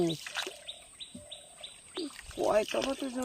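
A crow that has just swooped at a monkey calls in a series of short, harsh caws and chirpy notes near a small creek off the Gomor river, with a person's voice breaking in partway through.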